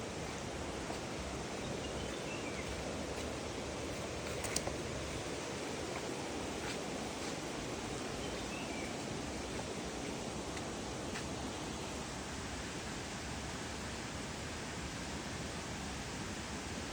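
A waterfall near Ponmudi makes a continuous broadband rush of falling water that is steady and unbroken throughout, with no voices.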